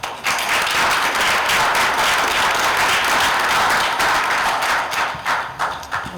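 Sustained, dense applause from a community meeting audience, loud and close, holding steady for several seconds before thinning into scattered claps at the end.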